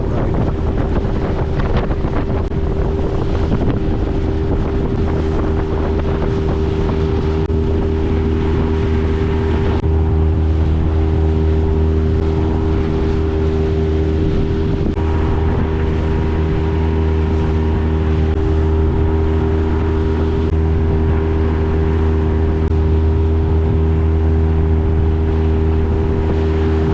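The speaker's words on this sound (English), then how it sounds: "So we launched the dinghy and went for a boat ride." A motorized dinghy carries riders on open water, its steady engine drone and hull rumble continuous and close, with wind buffeting the microphone throughout and no talking.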